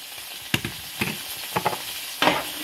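Red and green peppers for a quick pepper steak sizzle in a hot pan, with several bursts of frying hiss as they are stirred and tossed. No one speaks.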